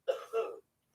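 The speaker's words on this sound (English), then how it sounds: "because I heard him cough" A child coughs or clears the throat in another room, two short muffled bursts that are fairly faint and distant, followed by silence.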